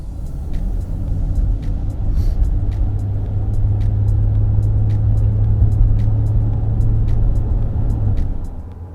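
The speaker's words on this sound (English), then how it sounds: "we're going to test out the 290 horsepower. Going to let it go through the gears." A 2013 Ford Explorer Limited with 290 horsepower accelerates through the gears. Its steady, loud engine rumble from inside the cabin swells slightly and then eases near the end, with no talk.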